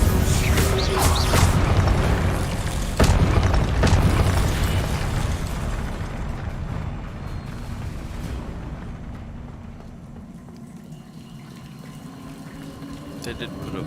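Spell blasts and explosions in combat in the wizarding video game Hogwarts Legacy, with loud booming bursts packed into the first few seconds and a heavy rumbling wash that slowly fades, while voices are heard over the battle.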